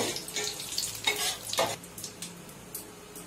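Whole cinnamon, cloves and cardamom sizzle in hot oil in a pan, with scraping stirs and clinks of a spatula over a soft steady fry, close and moderately loud.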